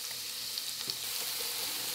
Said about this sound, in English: And now I'm frying the onions and the garlic.